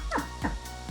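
A puppy gives three short, yipping barks in quick succession, close and moderately loud, with no talking.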